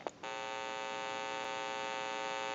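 A steady electrical hum with a buzzing, staticky tone from the amplifier of an AT&T wooden wall crank telephone starts abruptly after a click and holds at constant loudness, close and alone.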